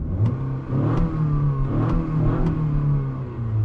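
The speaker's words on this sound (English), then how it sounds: "starting this car up. I love the engine note that it makes." A 2021 Acura RDX turbocharged engine idling and revving after starting, a steady mid-pitched hum with a few brief rises, heard from inside the car with no talking.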